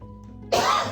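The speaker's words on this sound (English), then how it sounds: "Sorry for the coughing" A single sharp cough bursts out close by in a home kitchen, breaking a near-quiet moment and lingering briefly as a rough throaty rasp.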